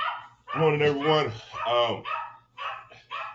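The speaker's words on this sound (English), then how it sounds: "I don't know if y'all can hear my dog barking in the background." A dog barks in the background indoors, short yips and barks mixed in with someone talking close to the microphone.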